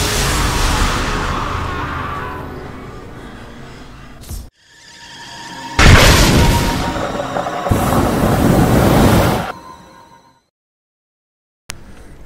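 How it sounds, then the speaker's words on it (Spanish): Loud explosions in Diablo 3, a heavy boom bursting at the start and two more sustained blasts rumbling in the middle before a sudden cutoff into silence. "Ah, todo explota."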